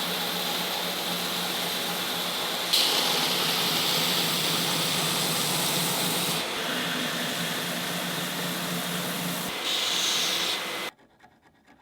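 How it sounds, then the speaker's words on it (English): Steady, loud abrasive whine of a powered grinder working metal stock for a sword, running continuously with slight shifts in pitch as pressure changes, then cutting off abruptly near the end. "I'm going to go grind this."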